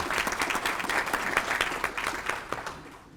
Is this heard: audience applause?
yes